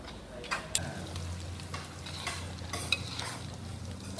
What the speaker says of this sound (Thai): เราก็จะเอากุ้งเสียบเนี่ยไปทอดนะคะ